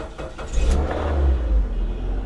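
A 1950s Chevy coupe with 112,000 miles, found hard to crank and seemingly locked up, fires and settles into a steady, close, fairly loud idle with a deep rumble and slight revving swells.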